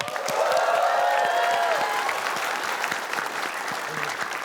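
Studio audience applause for a comedy group on an Indonesian television quiz show, full and continuous clapping with light cheering, steady and loud throughout.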